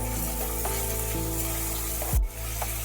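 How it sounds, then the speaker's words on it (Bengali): Chopped onion and tomato sauté in a pan with a steady, close sizzling hiss and a brief stir or scrape near the end, without speech. "পেঁয়াজটা অল্প করে সতে করে নিচ্ছি"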